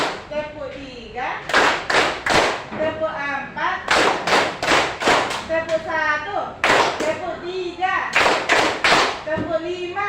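Children in an Indonesian classroom clap in a counting game, bursts of sharp hand claps in quick groups repeating several times, loud and close, with voices talking between the rounds.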